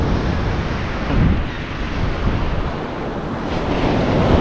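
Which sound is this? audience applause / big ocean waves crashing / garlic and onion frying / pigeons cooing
big ocean waves crashing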